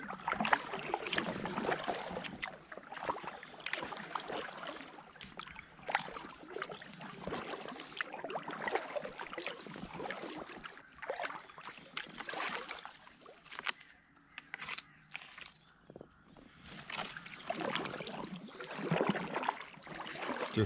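Paddling a Gumotex Twist 2 inflatable kayak along the Pocklington Canal: steady splashing and dripping water from paddle strokes, close and continuous, with soft rippling throughout.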